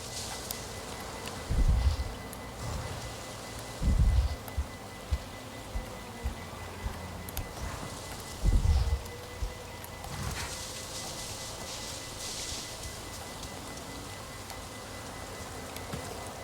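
Steady rain falls in the video game Avatar Frontiers of Pandora as a constant hiss, with a few deeper thuds and scattered ticks on top and no talk.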